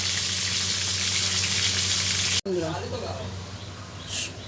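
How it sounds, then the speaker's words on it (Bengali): Bhetki fish bones frying in hot oil give a loud, dense, continuous sizzle that cuts off abruptly midway, after which a voice talks over quieter crackling. "কাঁটাগুলো ভেজে নিই"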